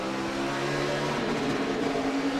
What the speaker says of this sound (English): It hit the rev limiter when he missed it.